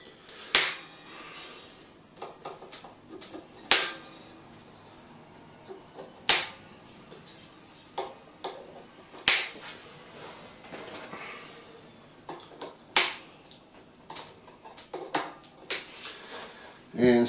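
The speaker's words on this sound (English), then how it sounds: "I'm going to snip off the strings with the snippity snips" Snips cut through the strings of a Squier Jagmaster guitar, a series of sharp isolated clicks and snaps spaced a few seconds apart, each followed by a brief ringing, with quieter handling rustles in between.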